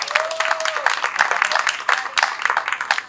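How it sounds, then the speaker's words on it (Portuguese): A short burst of dense crowd clapping for a guest at a Brazilian public talk, moderately loud and choppy, with a brief tonal whistle or squeal at the start. "Salve de palmas para Márcio Ricardo"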